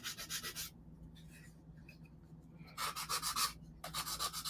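Repeated rhythmic rasping strokes, like sandpaper rubbed back and forth, come in short bursts separated by pauses, fairly close and moderately quiet.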